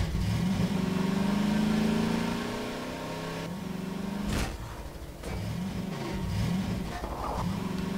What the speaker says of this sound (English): So you can get like a Jeep or something like that and like get in it.